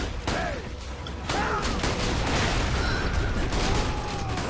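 Turret gunfire in Borderlands 2 at Lynchwood Station rattles steadily at moderate volume, a dense continuous stream of shots with a few sweeping whooshes over it.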